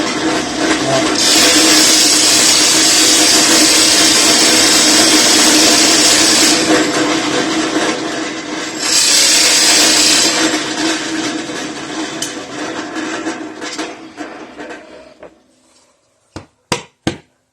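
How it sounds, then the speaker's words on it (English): Power drill boring holes in an arcade control panel, a loud sustained whine running for several seconds, a short pause, a second burst, then winding down, followed by a few sharp knocks at the end. "we're going to go back and drill the other holes the same way"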